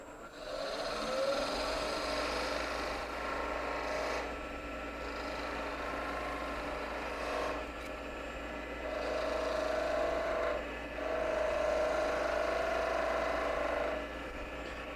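The point of a skew chisel cuts into spinning wood on a lathe, cleaning up a tenon wall with a steady hiss that swells in several passes over a low motor hum, moderately quiet.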